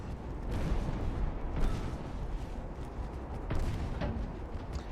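Naval guns fire during a transport and torpedo boat battle in Ultimate Admiral: Dreadnoughts, a rumbling series of booms over a continuous roar of battle, with several distinct heavier blasts spaced a second or two apart.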